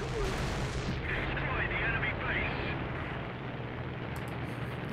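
Gunfire in War Thunder, dense rapid shooting and booming cannon bursts forming a continuous loud barrage, with someone talking over it.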